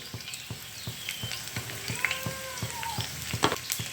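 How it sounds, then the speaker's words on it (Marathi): Chopped garlic and a little cumin powder crackle and sizzle in hot oil in a heated pan, a steady close frying hiss with quick scattered pops, no voices. "आता पॅन तापलेला आहे आता ह्यामध्ये ना मी तेल टाकते ते लसूण थोडासा चिरला होता जिरेची थोडीशी पूड"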